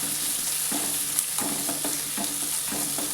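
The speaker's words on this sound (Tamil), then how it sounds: "வெங்காயம் நல்லா பொரியட்டுங்க." Chopped big onions and green chillies fry in oil in a pan for rava upma, sizzling steadily while a spatula scrapes and stirs in repeated strokes, close and fairly loud.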